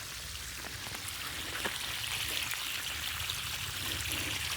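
Steady rushing water, like a continuous flow splashing from a pipe, broadband and even throughout with no voices.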